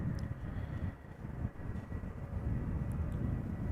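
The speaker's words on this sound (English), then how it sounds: "but I'm hearing airplanes spool up in the distance already." At Amsterdam Schiphol Airport, airplane engines spool up far off, heard only as a faint, steady low rumble with no clear foreground sound.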